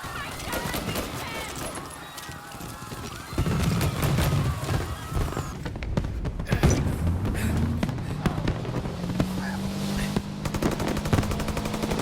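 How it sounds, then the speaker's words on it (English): Fireworks going off in the Mafia video game, a fast crackle of bangs and pops that grows denser and louder partway through, with a low droning tone and some speech mixed underneath. "And now for the fireworks"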